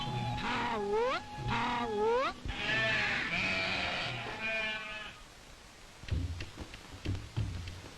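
A flock of sheep on hill pastures in the Kullu district of 1940 bleats in several loud, overlapping wavering calls, then quieter scattered bleats follow after a lull.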